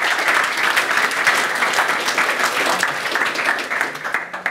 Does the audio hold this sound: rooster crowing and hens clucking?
no